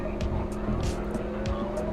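A car racing around a desert track in the arcade car-chase game PAKO, with a continuous engine drone broken by short tire squeals and skids, up close.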